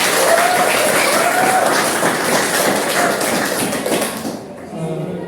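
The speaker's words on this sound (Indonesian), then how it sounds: "Sekali lagi berikan aplaus bagi kita semua." A classroom bursts into loud, dense applause, many hands clapping together in a steady roar that fades out near the end.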